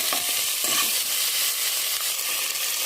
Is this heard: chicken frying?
yes